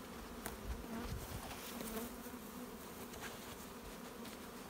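Steady insect buzzing fills the clip, a continuous droning hum from many honey bees close by at an open hive, with no voices.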